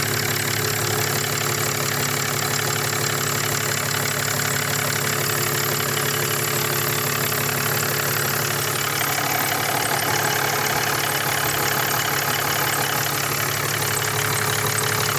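A Mercedes OM648 diesel engine idling under repair work on its injectors, a steady, close, continuous rumble with a fine rhythmic diesel clatter running throughout, no voices.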